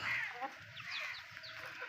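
Chickens on a rooftop next to a pigeon and chicken house give short, faint clucks and calls, a few brief bursts spread over two quiet seconds.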